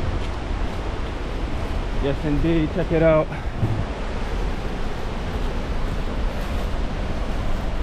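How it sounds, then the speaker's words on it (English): Bekongor waterfall on the River Sewa in Sierra Leone gives a steady, broad rushing roar throughout, with a person speaking briefly over it partway through. "really starting to hear the waterfall a lot more"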